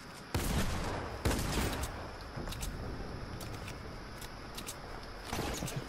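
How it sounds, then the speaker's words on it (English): Gunfire in a shooter video game, a few sharp bursts of shots at the start and again near the end over a busy background wash, moderately distant. "There's people down in the divot shooting at me."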